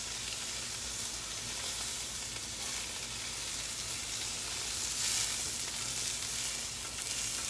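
Chicken Alfredo in a heavy whipping cream sauce sizzles steadily on a Blackstone griddle, a loud, continuous close-up frying hiss with soft stirring scrapes and no talking.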